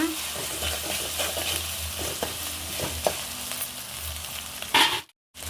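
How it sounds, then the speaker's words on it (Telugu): Onion, coriander and ginger-garlic paste fry in hot ghee with a steady, close sizzle, broken by a few stirring scrapes and clicks, then a brief hiss burst and a moment of silence at the very end. "ఈ ఉల్లిపాయ ముక్కలు, కొత్తిమీర, అల్లం చిన్నులపాయలు పేస్ట్ సూపర్గా మంచిగా ఫ్రై చేసుకోవాలి."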